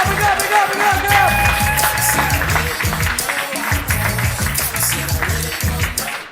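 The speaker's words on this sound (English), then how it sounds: "Give him a big round of applause" Comedy club audience at a Christmas-party night in Kilkenny applauds and cheers the first act, steady loud clapping with crowd noise and rhythmic thumping music underneath throughout.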